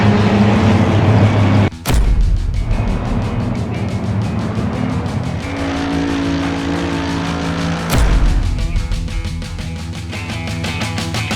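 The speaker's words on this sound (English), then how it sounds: "Lights out. Half an hour of racing underway." Race cars launching from the grid at Silverstone in Assetto Corsa Competizione, a loud pack of engines revving and upshifting, with sharp gear-change breaks and a rising, layered roar of many cars close together.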